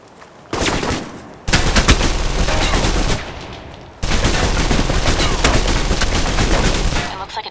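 Gunfire in the video game Alpha Protocol, dense bursts of automatic shots in two long volleys separated by brief pauses, loud and close.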